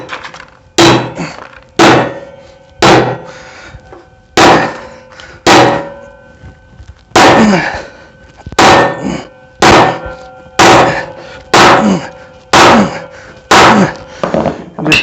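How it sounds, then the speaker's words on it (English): Hammer pounding a part into a Honda GX160 plate compactor, about a dozen loud, close metallic blows struck at a steady rhythm, each ringing briefly before the next. "just pound that son of a bitch in there"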